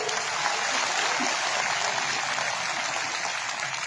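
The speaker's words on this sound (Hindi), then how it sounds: "इसलिए जोर से ताली बजा के" Steady, dense clapping from a crowd fills the whole stretch at an even level, with no voices standing out.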